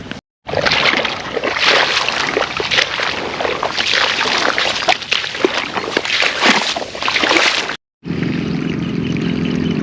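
Water runs across a village farm field, a dense, steady rushing and sloshing that stays close and loud, with a brief cut near the end before a quieter stretch.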